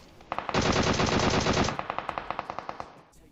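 Gunfire from a DP-28 machine gun in the PUBG Mobile video game: a dense sustained burst, then a string of evenly spaced single shots, loud and close.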